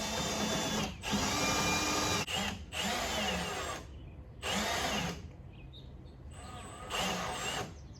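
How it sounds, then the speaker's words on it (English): Power drill driving a chase bit to open a hole out to 3/4 inch during a Metalcloak Gutz kit install on a Jeep JL/JT: four loud, close, whining bursts of about a second each, separated by brief pauses. "I'm actually gonna use a chase bit, because we need to drill this out to 3/4 of an inch"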